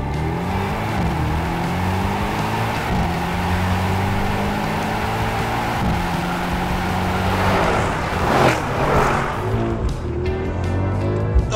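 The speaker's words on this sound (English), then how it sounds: "No engines have this type of baritone noise other than AMGs." A 2021 Mercedes-AMG GLE 63 S engine rumbles and revs with a deep baritone, rising and shifting through gears, loud and steady throughout with a sharp burst near the end and no talk.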